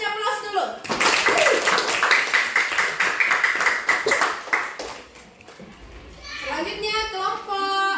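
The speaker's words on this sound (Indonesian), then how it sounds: "Kasih aplaus dulu" Classroom applause for a student group: a burst of many hands clapping in steady rapid rhythm for several seconds, children's voices chattering over it, fading as an adult voice speaks at the start and end.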